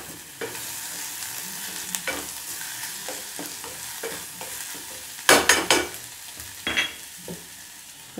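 Small shallots frying in a pan of oil with ginger-garlic paste and whole dried chillies for beef curry, a steady close sizzle broken by several sharp bursts of spattering and stirring scrapes.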